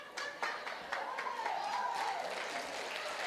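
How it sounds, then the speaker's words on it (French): A church congregation applauds with steady, fairly even clapping at mid distance, while a voice carries a drawn-out tone over the claps. "Mes beaux-parents ont été les premiers à applaudir."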